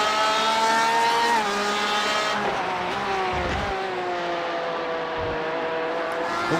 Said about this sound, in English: Watch from Peterson's perspective, a train of 3 cars that he now has to overtake.